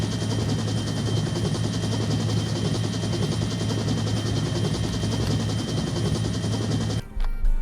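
Helicopter in the Onward VR military shooter game: a loud, steady rotor drone holds for about seven seconds, mixed with rapid gunfire, then cuts off abruptly near the end.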